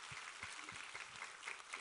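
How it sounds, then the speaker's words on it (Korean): A church congregation applauds during a Thanksgiving Sunday service, a steady wash of many hands clapping together at moderate volume throughout, with no voices on top. "우리 하나님께 감사와 영광의 박수 올려드리겠습니다"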